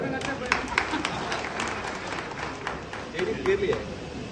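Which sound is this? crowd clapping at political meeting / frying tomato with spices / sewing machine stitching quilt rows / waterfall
crowd clapping at political meeting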